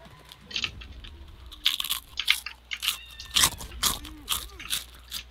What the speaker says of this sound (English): I'm gonna eat some pork rinds.